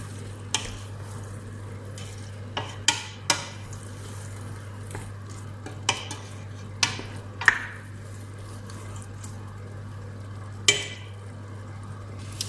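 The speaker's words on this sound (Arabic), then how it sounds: "غادي نعملوا على هاد الزعلوك هو. وغادي نخلطو." Moroccan eggplant zaalouk being stirred in a pan, with scattered utensil scrapes and clicks over a low steady hum and faint simmering, no talking.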